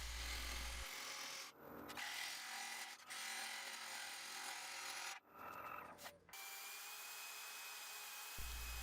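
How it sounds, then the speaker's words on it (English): A Thompson 1/2 inch bowl gouge taking a final cleanup cut on walnut on a lathe, a steady close scraping rasp broken by a few short pauses and repeated passes. "Here I'm using my Thompson 1/2" bowl gouge."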